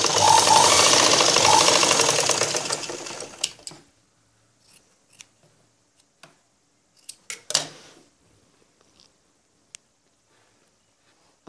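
A sewing machine runs steadily for a few seconds while stitching blouse belt pieces together, then stops, followed by scattered small clicks and taps of handling fabric and scissors.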